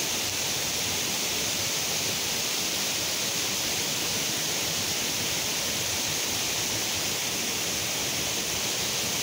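A waterfall decorated with lights pours in a steady, dense roar of rushing water that stays loud and unbroken throughout, with no voices.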